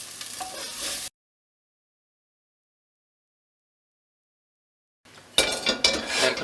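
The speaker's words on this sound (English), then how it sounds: "Just spoon them out temporarily into a bowl that you've got waiting" Softened onions and garlic spooned from a pan into a waiting bowl: a second of scraping and sizzle, a long silent gap, then louder clinks of spoon against cookware and frying crackle.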